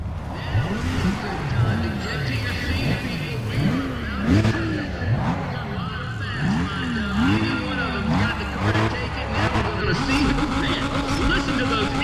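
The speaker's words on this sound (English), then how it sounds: "Listen to those engines." Race car engines rev and wail in a racing video game, several cars rising and falling in repeated sweeping pitch, loud and close, with someone talking over the engines and tires squealing briefly.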